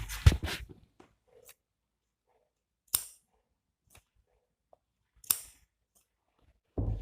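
Scissors snipping fabric while cutting out a coat-collar blouse, a few short isolated snips spaced apart in a quiet room with no talk.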